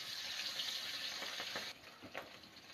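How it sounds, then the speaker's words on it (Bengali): Hilsa fish fry in hot oil in a wok, giving a steady, bright sizzling hiss that continues without pause, with a slight shift in texture partway through. "দুটো দুটো করে দিচ্ছি ভেজে নিচ্ছি"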